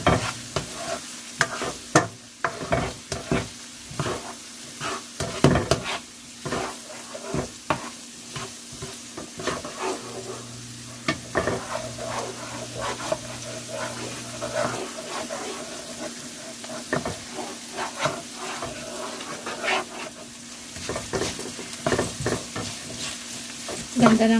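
Fried rice with egg stirred in a frying pan in a home kitchen, irregular scraping and tossing strokes over a steady sizzle, with a few brief running-water sounds in the background.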